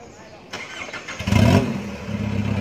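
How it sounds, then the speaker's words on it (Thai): An old Isuzu D-Max pickup with a carbon-tip tuned engine and a 3000 turbo starts and settles into a rough diesel idle nearby, while people talk over it. "เดี๋ยวไปฟังเสียงของรถของพี่เขากันนะครับ"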